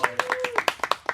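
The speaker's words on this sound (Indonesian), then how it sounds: "Tepuk tangannya dong." Several people clap by hand in a short burst of about eight sharp, uneven claps, close by, while a voice talks over them.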